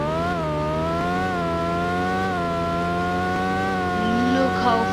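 A McLaren Speedtail sports car engine in a video game drones at high revs with a strong harmonic whine, pitch holding nearly level with slight rises, loud and continuous throughout.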